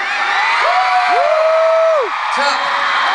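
A large crowd at a performance at the 2009 Korean Music Festival cheers and shouts loudly, with rising and falling whoops and yells riding over a dense roar of voices.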